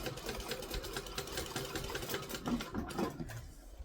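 Sewing machine stitching a zigzag back and forth while making a Kangaroo pattern by Seams Legit, a steady fast mechanical whir with rapid needle ticking throughout, close and continuous before easing off at the end.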